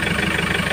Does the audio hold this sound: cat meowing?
no